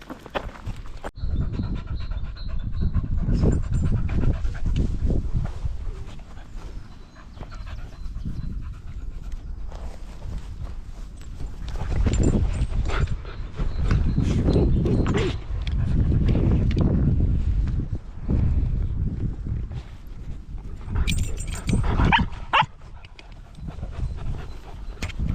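Dogs pant heavily and close by during a walk outdoors, in bursts of rapid breathing with pauses between, alongside scuffling movement and light wind noise, with no talking.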